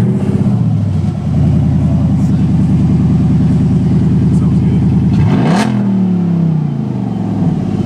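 A Dodge SRT8 with its exhaust cutouts open rumbles loudly up close, holding a steady burbling rev before a sharp throttle blip rises and falls back to idle.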